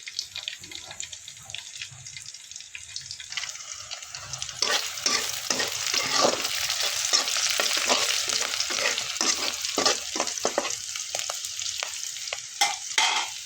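Onions frying in a pan for a cauliflower and potato dish, a steady hiss that swells louder midway with repeated stirring scrapes and clinks.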